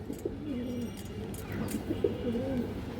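Soft, low pigeon coos repeat in short rolling phrases against a steady murmur of background noise, fairly close.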